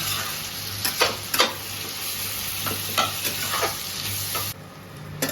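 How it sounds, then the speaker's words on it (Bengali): Onions frying in a pan for an ichor (jackfruit) recipe, a steady close sizzle with several scraping stir strokes of a spatula, alone without talk. "পেঁয়াজগুলো ভালো করে ফ্রাই করে নেওয়া হচ্ছে"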